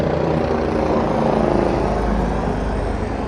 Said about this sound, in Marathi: पाच पाच मिनटाला एक हेलिकॉप्टर उतरतंय चढतंय